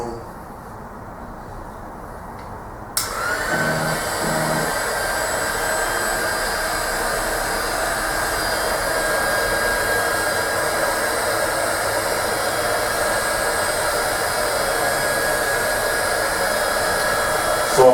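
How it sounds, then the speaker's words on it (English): A fan switches on abruptly and keeps running with a steady, loud whooshing drone, preceded by quieter room noise and a couple of brief low thumps. "minus the noise that you hear, that's the fan"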